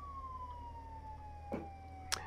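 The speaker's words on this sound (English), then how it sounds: "Put your sirens on." Fire truck siren in the video game Firefighting Simulator, a single sustained descending wail with a couple of brief clicks over it, faint and steady.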